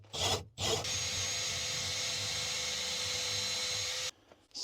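A drill bores through the wooden wall of a tiny cabin during a diesel heater installation, a sustained high whine and grinding close up after two brief bursts, then it stops abruptly.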